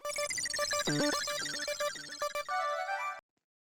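An electronic ringtone trills loudly in a repeating melodic pattern for about three seconds, then cuts off abruptly.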